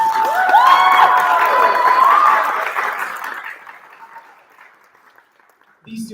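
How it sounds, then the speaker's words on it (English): A school audience at a student speech event claps loudly, cheers and whoops for the student speakers, then the applause fades away to near silence. "So how about one more round of applause for all 10 speakers tonight?"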